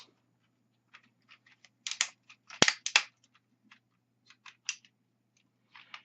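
Sharp plastic clicks and snaps from a transforming toy dinosaur robot as its parts are folded in and its arms and fists rotated, scattered irregular taps with a cluster of louder ratcheting clicks in the middle, close and with no talk.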